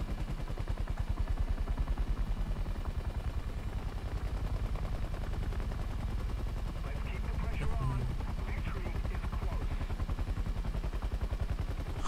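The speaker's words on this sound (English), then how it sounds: "Ah yes, the classic helicopter sound of helicopter sounds." A rapid, steady low thumping of helicopter rotors inside a video game, running continuously under background game noise and occasional talking, close and fairly loud throughout.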